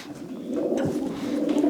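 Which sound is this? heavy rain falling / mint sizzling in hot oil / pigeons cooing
pigeons cooing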